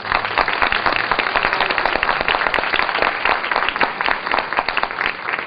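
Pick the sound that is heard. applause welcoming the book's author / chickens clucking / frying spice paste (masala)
applause welcoming the book's author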